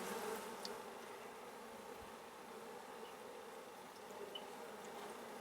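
Honey bees buzz steadily around an opened hive being checked for queen cells after a split. The hum is dense and continuous, close and even in loudness, with no voices.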